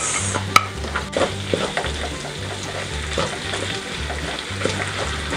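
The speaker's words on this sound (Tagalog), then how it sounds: "Ngayon ay magdadagdag lang po ako ng cooking oil. Yan. Para igisa ko na rin itong ating sibuyas." Onions sautéing in cooking oil in a pan, a steady close sizzle and frying hiss with repeated stirring and scraping sounds throughout, no one speaking.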